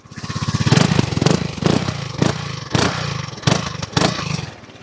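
An FKM Slick 400 motorcycle engine revs repeatedly, with several sharp throttle blips rising over a throbbing idle, loud and close.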